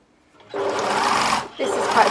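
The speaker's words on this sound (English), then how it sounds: "My seam allowance is 1 centimetre, so I'm just going to sew around." A sewing machine runs close and loud around small pieces of stable fabric at a 1 centimetre seam allowance, in two short bursts with a brief dip between them.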